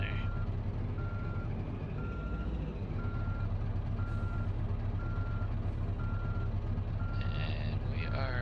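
Steady, evenly spaced reversing beeps from a truck backing a trailer in Euro Truck Simulator 2, repeating over a loud continuous engine drone, with a brief hiss near the end.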